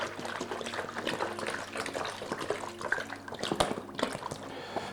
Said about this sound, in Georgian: ჩავასხათ წყალი ჯამში